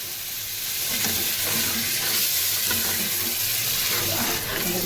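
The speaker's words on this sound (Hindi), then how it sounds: "और बाकी हमारी ये चाशनी जो रेडी है हमारी, वो मैं इसके अंदर ऐड कर रही हूँ।" Sugar syrup being poured and stirred into suji halwa cooking with ghee in a pan gives a steady close sizzle with scraping stir sounds throughout, no talk.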